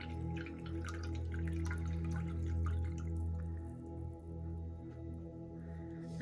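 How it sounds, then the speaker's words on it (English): Water sloshes and drips steadily as a paint brush is rinsed in a water container during a painting session, a soft continuous trickle over a low background hum. "I'm rinsing my brush super, super, super good"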